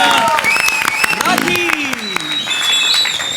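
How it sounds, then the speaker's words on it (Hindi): Studio audience on the comedy show Comedy Circus claps in a brief, lively burst, with voices and tonal sounds layered over the applause. "भैया तालियां हो जाए।"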